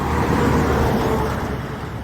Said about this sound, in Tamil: இதையே பாருங்கள், எப்படி தான் வண்டி வாகனம் வருதுன்னு பாருங்கள்